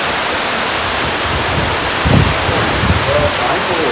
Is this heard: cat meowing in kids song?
no